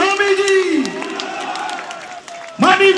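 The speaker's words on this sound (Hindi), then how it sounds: "आप लोगों से निवेदन है खड़े होकर के उनके जोरदार तालियों से स्वागत करेंगे।" A standing crowd at a welcome event for Uttarakhand Chief Minister Pushkar Singh Dhami in Patparganj, Delhi, claps and cheers. A loud amplified voice calls out over the ongoing applause, which swells again at the end.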